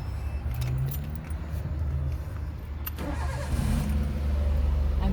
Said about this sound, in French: On va entendre son petit moteur.